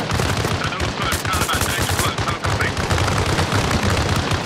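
Continuous rapid gunfire in Arma Reforger during a firefight on a Helmand Province road, dense automatic bursts loud and close throughout with shouted voices faintly under the shooting.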